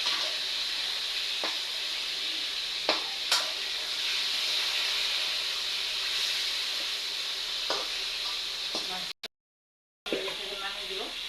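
Fish braising in a covered pan, giving a steady frying sizzle with occasional stirring clicks and a short break near the end; no voices.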